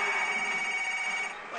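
A phone rings in the Resident Evil 5 video game, a continuous electronic ringing tone that holds steady throughout and fades slightly at the end.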